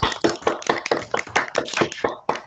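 A few people applaud over open microphones at an online STEM higher-education conference, with close, sharp, slightly irregular hand claps repeating quickly before they stop.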